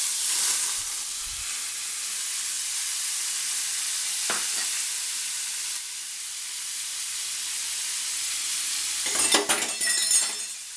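Chopped tomato pieces fry in hot oil with a continuous bright sizzle, joined by a few soft stirring clinks and a louder burst of crackling near the end.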